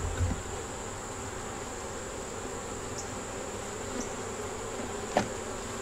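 Honey bees hum steadily around hive frames, a soft continuous drone with a few brief louder buzzes as single bees pass close by.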